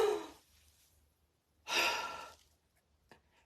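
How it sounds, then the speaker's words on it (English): A person takes a deep breath and lets it out in a long audible sigh, close and clear, with a quieter breath before it and a soft sound near the end, no talk. "So I'm going to take a deep breath."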